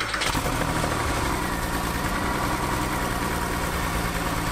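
Porsche 911 engine idling steadily after a start from a dead battery, a dense, continuous mid-to-low rumble with a slight vibration, close and fairly loud throughout, with no talking.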